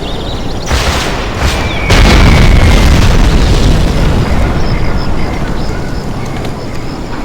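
Bombing run explosions in the real-time strategy game Command & Conquer Generals Zero Hour, a loud rumbling barrage of overlapping booms that swells and then sustains as a dense roar.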